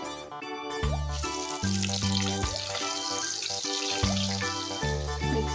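Ground masala paste frying in oil left over from frying turmeric-and-salt-rubbed fish for a spicy black-masala fish curry, a steady loud sizzle and crackle running unbroken under repeated low rhythmic beats.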